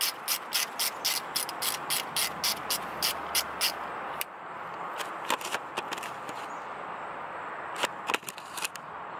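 A nut on the positive terminal of an NB Miata alternator being loosened, with a rapid run of sharp ratcheting clicks at first, then a quieter stretch and a few scattered clicks, close up.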